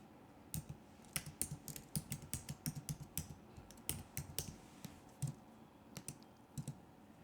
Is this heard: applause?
no